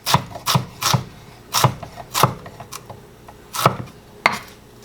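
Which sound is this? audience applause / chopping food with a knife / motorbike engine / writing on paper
chopping food with a knife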